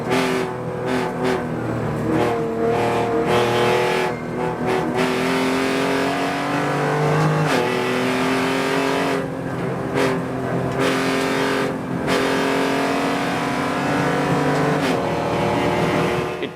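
BMW race car engine running hard in performance manual mode, loud sustained revving that rises in pitch and drops sharply several times with very fast gear shifts, close and continuous with no talking.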